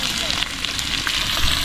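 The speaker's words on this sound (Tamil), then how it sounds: "அடுத்து வெங்காயம் பச்சை மிளகாய் போட்டுக்கிறோம்." Onion and green chili fry in a hot, dry pan, giving a steady, close hiss and crackle with no pauses.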